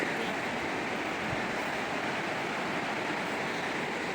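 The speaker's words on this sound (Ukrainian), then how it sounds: "Ви чуєте шум? Це морська ріка ось тут." Steady rushing water of a wide, shallow, clear river flowing over stones in northern Italy, without a break, a broad even hiss that fills the scene from nearby.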